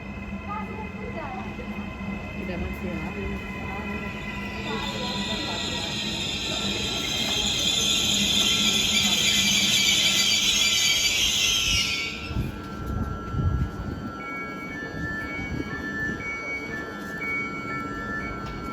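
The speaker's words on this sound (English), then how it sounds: "This is our train that will take us to Seracusa." A train arrives at a station platform in Sicily, with a steady rumble of rolling wheels and a long high metallic squeal of brakes that builds over several seconds and then cuts off as the train slows; faint talk in the background.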